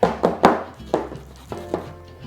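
A spoon scrapes and spreads cinnamon cider bread batter, made with hard cider, into a baking pan, giving a few dull knocks and soft scrapes that fade toward the end; no one speaks.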